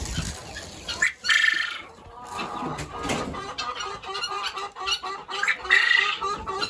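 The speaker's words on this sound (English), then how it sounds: "Now we're feeding our quail just in here in this side." Quails calling and squawking in a farm pen at feeding time, a close, busy mix of chirps and honk-like cries with rustling between them.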